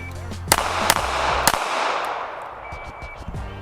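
Three sharp, loud shots from a Smith & Wesson Bodyguard 2.0 pocket pistol fired as a Mozambique drill: two quick shots, then a third slightly later, with a short ringing tail and faint clatter afterward.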